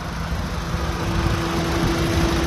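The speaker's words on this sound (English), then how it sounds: "It's their iVTEC engine." A 2009 Honda Fit Sport's i-VTEC engine idling steadily, a close, even hum with a constant low drone and no talking.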